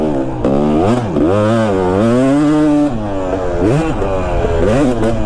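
A two-stroke motorcycle engine runs loud and close for the whole stretch, its buzzing drone rising and falling in pitch as the throttle is blipped at low revs.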